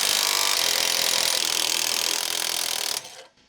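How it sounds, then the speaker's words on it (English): Impact wrench spinning off the mounting bolt of an adjustable rear track bar on a 2007-2018 Jeep Wrangler JK with a 21mm deep socket, a loud, continuous buzzing whir for about three seconds that then cuts off abruptly. "Using the 21mm deep socket with the impact wrench, remove the mounting bolt for the adjustable rear track bar."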